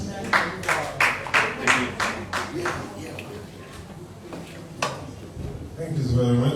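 Applause from an audience at a journalists' awards ceremony, a burst of rhythmic clapping that swells and then tapers off, with murmuring and a few scattered claps continuing afterward.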